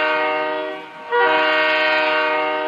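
A video game train sounds its horn loudly and close, a sustained multi-tone blare that dips briefly and then swells back, heard alone with no voices.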